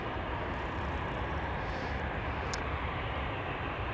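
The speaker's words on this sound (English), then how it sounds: "Air Serbia going to Belgrade. It is an Embraer 195." An Air Serbia Embraer 195 jet departs Amsterdam Schiphol, a steady broadband engine roar heard from a moderate distance, even in level, with no one speaking.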